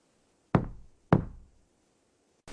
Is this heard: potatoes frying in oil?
no